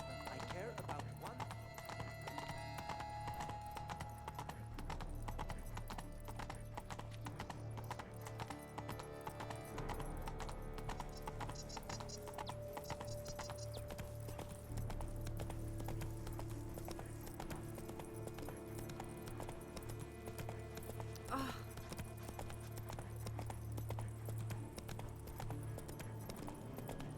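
Roach, Geralt's horse in the video game The Witcher 3, trots with a steady, faint clip-clop of hooves under a long stretch of game music, ambient sound and character dialogue.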